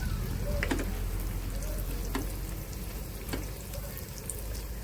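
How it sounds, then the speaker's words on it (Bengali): Pieces of bread fry in hot oil on a medium gas flame with a continuous bubbling sizzle, close and fairly loud, with a few light crackles and taps. "দুটো দুটো দিয়ে ভেজে নিচ্ছি।"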